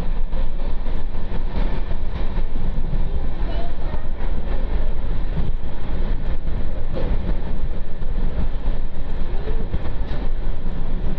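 Lingampalli-Vijayawada Intercity Express running fast, a loud, continuous rumble and rattle of the moving train heard close by from on board, with no clear pauses.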